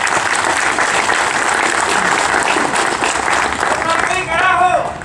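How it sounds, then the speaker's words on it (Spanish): Loud, dense applause from a crowd at a political party headquarters inauguration, continuous clapping with voices and cheers mixed in throughout. "fuerte aplauso"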